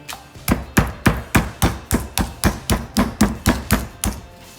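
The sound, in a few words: pounding a meat cutlet flat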